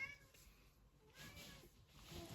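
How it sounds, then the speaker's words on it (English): A house cat meows softly a couple of times, faint and somewhat distant in a quiet indoor room. "Sometimes I really can't think when he's meowing like that."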